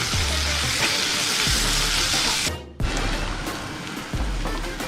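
Egg puff masala sizzles loudly in hot oil in a pan, a dense, steady crackling hiss close up, briefly dipping as it is stirred before carrying on.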